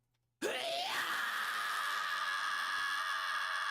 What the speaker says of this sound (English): Then my really long scream.